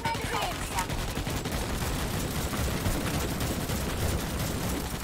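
Dense, continuous gunfire from enemies in the video game Starship Troopers: Extermination, a steady barrage of overlapping shots that fills the clip at constant loudness with no pauses.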